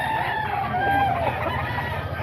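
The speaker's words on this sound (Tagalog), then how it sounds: "Ito, mga manok niya mga ka-idol." Several roosters and hens, super sweater gamefowl, clucking and crowing close by in a steady overlapping chorus, with no talk.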